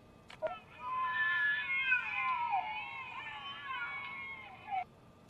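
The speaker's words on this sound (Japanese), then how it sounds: "もしこれが仮に猫であると" A cat meows in a long, drawn-out wail with a rising and falling pitch, recorded clearly and close, preceded by a short thump; it comes from a Japanese horror film's eerie animal cry.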